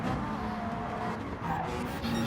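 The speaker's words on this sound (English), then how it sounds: "Oh, you just hear that tyre, those tyres protesting on the Mazda 3 there." Tyres on a Mazda 3 squeal and scrabble for grip in a race, a loud continuous engine roar with skidding tones riding over it throughout, close and steady.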